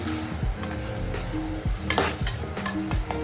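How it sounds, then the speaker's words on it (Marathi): Ginger-garlic paste fries in a pan for a Maharashtrian tur dal onion curry, giving a steady sizzle with clinks and scrapes of stirring, close and moderately loud, with no voices. "आता ही आला लसणाची पेस्ट ऍड करायची, आणि हे आता फ्राय करून घ्यायचं आपण"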